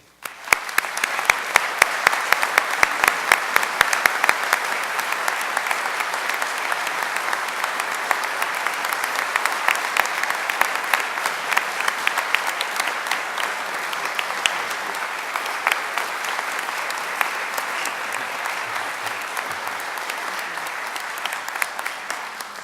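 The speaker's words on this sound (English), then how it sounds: "Thank you very much for that applause." Sustained applause from a large audience at a university homecoming convocation, a dense steady wash of clapping that stays loud throughout with no talking.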